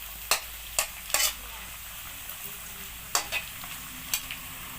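A utensil scrapes and taps intermittently against an electric frying pan over a steady sizzle of frying pork, several sharp stirring strokes spread out in time.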